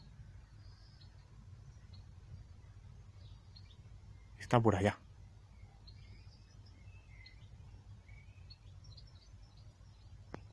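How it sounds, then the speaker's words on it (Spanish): A goldfinch near its nest in a vegetable garden gives faint, scattered high chirps in the distance, while someone briefly speaks close by midway through. "estoy oyendo el jilguero ahora mismo"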